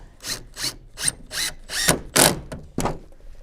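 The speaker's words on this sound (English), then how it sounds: "a pre-drilled hole for a 100mm screw to go through" A power drill drives a 100mm screw through a pre-drilled hole in a wooden garden strut: a series of short whirring bursts, about eight, close and fairly loud, with no talking.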